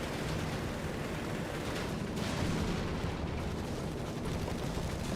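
Steady rattling machine gun fire and distant battle noise from Company of Heroes 3, USA versus Germany, running continuously at moderate loudness with no voices.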